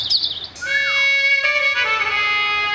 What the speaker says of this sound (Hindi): इन चिड़ियों का गलगल करना आनंद की अनुभूति करा रहा है